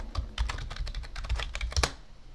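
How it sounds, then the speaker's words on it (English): Fingers type a password on a computer keyboard, a quick run of close, crisp key clicks in an irregular rhythm lasting about two seconds, with no voices. "And then I had to type in the password."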